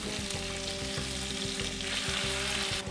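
Ostrich meat sears in butter in a hot frying pan, a loud steady sizzle crackling throughout with no voices.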